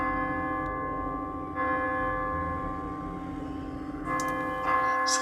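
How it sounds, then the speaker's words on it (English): A church bell chimes in the distance as a stage play sound effect, its sustained ringing tones layered with fresh strikes partway through and again near the end. "heard the chimes of a church in the distance"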